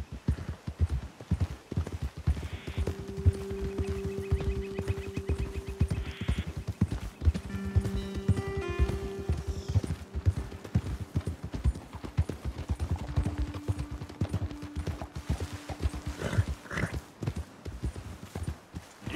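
Horse hooves clip-clop in a steady walking rhythm in the video game Red Dead Redemption 2, with occasional soft snorts and a brief whinny over a quiet outdoor background.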